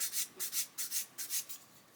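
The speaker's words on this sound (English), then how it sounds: "we're just sanding away that sprue nib" Sanding a sprue nib off a plastic model kit chassis part: a run of about eight short, close rasping strokes in a steady back-and-forth rhythm, with no talking.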